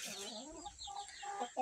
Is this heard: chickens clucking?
yes